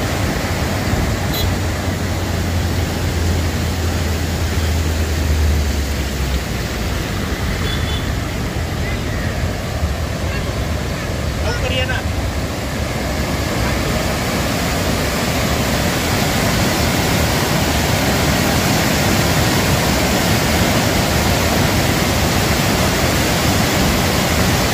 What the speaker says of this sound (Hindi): ये डैम का पानी है जो निकल के आ रहा है बाहर, कितना भयावह दिख रहा है।